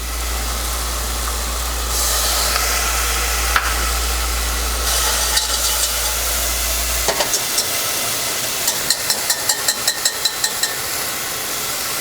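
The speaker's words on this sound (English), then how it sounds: "while this is sauteing, I'm gonna add a little bit more garlic in there" Garlic sautéing in a pan gives off a steady broadband sizzle with a low hum underneath, and toward the end a series of light, quick tapping clicks rises over the frying.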